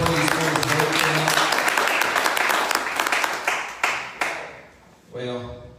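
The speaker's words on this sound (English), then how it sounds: "Let's give the Lord a hand clap of praise for His word tonight" A church congregation claps and applauds steadily for several seconds, the clapping fading out near the end before a voice begins speaking.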